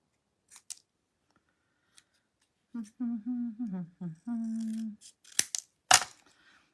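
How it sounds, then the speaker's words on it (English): Scissors snip through card during card making, a few quick, crisp cuts close by near the end, following a stretch of voiced sound. "I'm going to cut it off."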